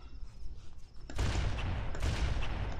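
Halo: Combat Evolved gunfire on Legendary difficulty crackles in, starting with quiet ambience before a sudden sustained burst of close, loud shots that keeps going to the end.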